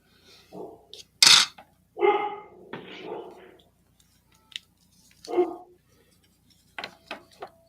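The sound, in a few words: dog barking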